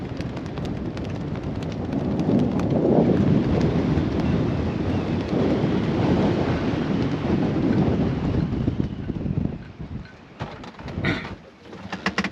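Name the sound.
strong wind blowing at a bay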